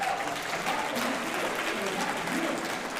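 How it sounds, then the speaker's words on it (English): A town hall audience applauds, a dense, steady wash of clapping from a crowd indoors, loud and continuous throughout the few seconds. "hearing so much applause is you're absolutely right"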